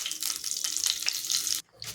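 Ground cumin hits hot oil in a wok, a bright close sizzle and crackle that holds steady before cutting off abruptly near the end.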